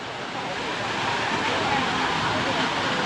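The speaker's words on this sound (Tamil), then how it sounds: "2 கையை வச்சுக்கிட்டு அப்படியே தண்ணி சூப்பராக ஊற்றுது அழகாக." Water pours steadily from a carved stone sculpture fountain at a plaza on Phu Quoc island, Vietnam, giving a loud, continuous, close splashing rush.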